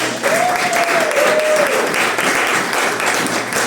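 A church congregation breaks into dense, continuous applause that fills the space loudly and evenly, with a brief whistle-like tone over it near the start.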